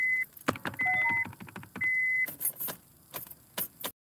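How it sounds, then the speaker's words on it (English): Car keys jangling close by while someone tries to start a car, with several chiming beeps from the vehicle and a brief engine or power-window whir among the rattling metal clinks. "Trying to get my car to start."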